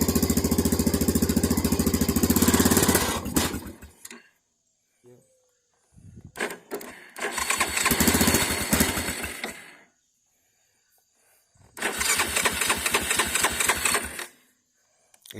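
A Yamaha Grizzly 660 ATV with a fault that makes it cut out when throttled and stop idling tries to run. The engine chugs loudly, dies, restarts in rough bursts and falls silent again in between.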